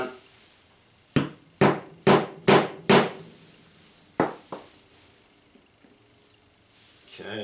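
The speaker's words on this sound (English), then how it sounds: "put a nail in, hammer it down" A hammer strikes a nail into wood with five sharp, evenly spaced blows, then two more after a pause, each knock ringing briefly, pegging out a fox skin for tanning.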